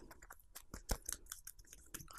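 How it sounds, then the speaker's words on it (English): Initiative cards for the Kickstarter board game Wander: LaCluck's Revenge being shuffled up, giving a quiet run of crisp, uneven card flicks and snaps with one sharper slap near the middle, with no talking. "then we shuffle up the initiative cards"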